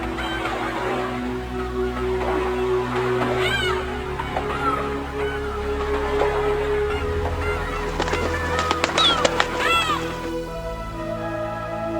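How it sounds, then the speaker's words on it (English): Bar-headed geese honk by a high-altitude lake in the Qiangtang Nature Reserve, scattered nasal calls rising over a steady low hum, growing busier toward the end. "undoubtedly, the bar-headed goose is the most numerous."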